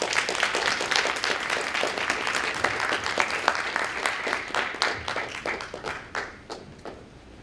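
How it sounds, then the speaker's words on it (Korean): A hall audience claps to welcome a professor at a university graduate school entrance ceremony, with dense, steady applause and distinct individual claps that thin out toward the end. "이상엽 교수님을 큰 박수로 맞이해 주시기 바랍니다."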